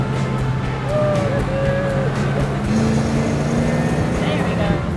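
A 1972 Dodge Charger Rallye with a 318 engine drives along in second gear, its steady engine drone and road rumble filling the cabin while voices talk faintly over it.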